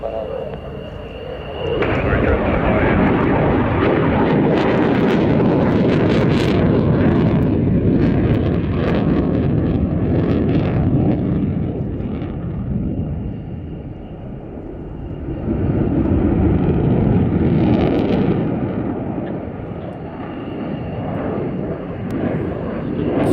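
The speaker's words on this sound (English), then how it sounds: "From the Swiss Air Force with this brilliant F-18." A Swiss Air Force F-18 fighter jet performs a display at an air show, its loud broadband engine roar swelling and fading over about twenty seconds, with wind buffeting the microphone.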